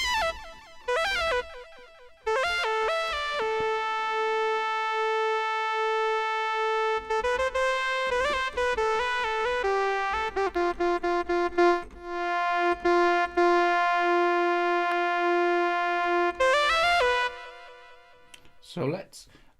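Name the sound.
synthesizer AUV3 patch playing a proggy sound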